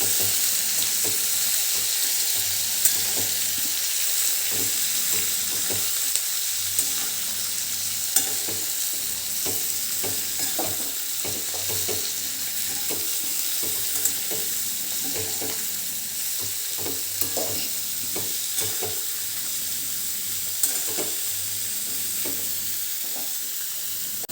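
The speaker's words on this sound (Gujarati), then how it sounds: "હવે આને આપણે હલાવી લેવાનું છે" Ivy gourd and potato curry with spices stirring in a pan, with a steady soft sizzle and occasional clicks and scrapes of a spoon.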